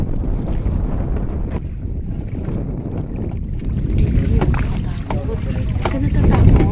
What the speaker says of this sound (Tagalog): Malakas lang yun talaga yung hangin. Hanging amihan to.